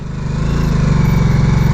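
A 2022 Harley-Davidson Nightster motorcycle engine putters close and loud at low speed during slow police-style manoeuvres, its even rhythmic pulsing swelling slightly as it rolls along.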